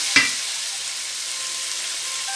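Chicken tikka boti pieces fry loudly in a pan, a constant hissing sizzle that opens with one sharp clank of a utensil, with no talking.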